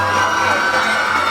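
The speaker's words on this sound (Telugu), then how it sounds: "క్లాప్స్ పెట్టాలి అందరూ" A crowd cheers for an NCC team at a gathering, a brief burst of massed voices and shouts over a dense, even roar.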